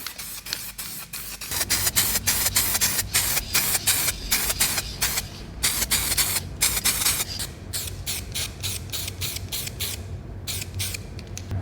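Spray paint going onto a car frame bracket off an XJ, in a long run of short, loud hissing bursts with brief gaps between them.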